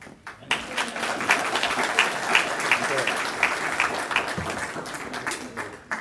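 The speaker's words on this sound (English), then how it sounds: "now we can clap" An audience claps steadily for several seconds, a dense patter of many hands that swells and then tapers off.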